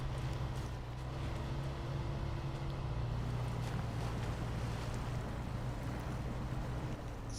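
A Ram truck engine in the video game SnowRunner drones low and steadily, straining under load for several seconds at a constant, moderately loud level with no talking.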